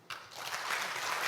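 A brief burst of applause at a fintech symposium starts suddenly and holds steady, many hands clapping together at moderate volume.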